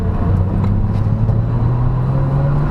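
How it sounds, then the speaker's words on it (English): Inside a Nissan Fairlady Z turbo while driving, the engine drones loudly and rises in pitch as the turbo spools up, a steady close rumble with no talk. "You can hear the turbo spool up too."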